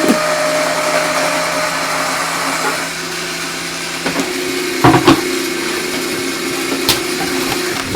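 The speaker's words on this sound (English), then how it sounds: "So my machine is an electronic machine, so you will hear it back here, but it goes pretty quickly." An electronic craft cutting machine runs with a steady mechanical whir and hum, close and fairly loud, broken by a few short clunks and knocks as it moves. Nobody speaks.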